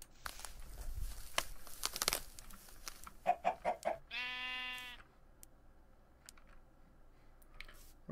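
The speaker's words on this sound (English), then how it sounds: "Where did that chicken go?" A chicken clucks in a Minecraft FTB modpack game amid scattered game noises, with a clear clucking call mid-way and a sheep-like bleat, fairly faint overall.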